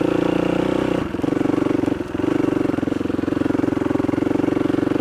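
Motorcycle engines chug and rev on a rocky summit trail with small ledges, a loud steady close mechanical drone with a brief dip in throttle.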